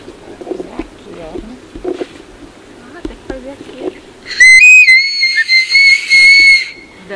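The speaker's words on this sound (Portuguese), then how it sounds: "quero ver como é que é o som desse apito aí, Leide." A whistle at a rubber plantation museum blows in long, loud, shrill bursts after several seconds of women chatting, its pitch wavering slightly as it sounds over and over.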